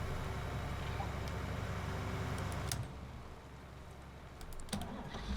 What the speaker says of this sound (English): I meant to turn the seeder off and I turned the tractor off.